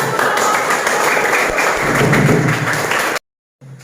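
Children in a classroom clap together on cue, a loud, close burst of mixed claps and thumps lasting about three seconds before cutting off abruptly to near silence.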